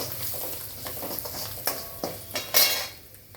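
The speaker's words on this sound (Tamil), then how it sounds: "இப்போ இதில் வந்து பூண்டை சேர்த்துக்கலாங்க." Garlic sizzles in a pan as a spoon scrapes and clinks against the metal while stirring, with sharp utensil knocks over a constant frying hiss, close up and without talk.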